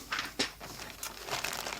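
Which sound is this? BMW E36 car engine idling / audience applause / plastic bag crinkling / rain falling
plastic bag crinkling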